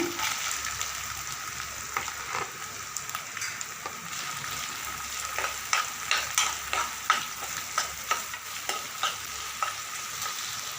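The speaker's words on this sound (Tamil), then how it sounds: "நல்லா ப்ரௌன் கலர் வர அளவுக்கு வதக்கிடுங்க" Green chillies and shallots sautéing in a pan, with steady sizzling frying and repeated clinks and scrapes of a spoon stirring, close up with no talk.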